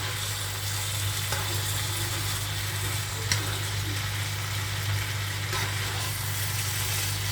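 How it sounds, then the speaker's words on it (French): Sliced potatoes for a pan-cooked gratin fry in a pan, a steady dense sizzle over a low constant hum, with a few faint stirring knocks. "juste à les faire encore griller et mon repas est prêt"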